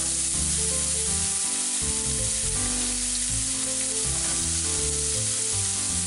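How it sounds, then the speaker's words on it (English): Onions frying in a pan as the start of a tomato pasta sauce, a loud, dense, continuous sizzle heard up close, with music playing over it throughout. "So you want to do the onions first because they're going to take a good long while to cook."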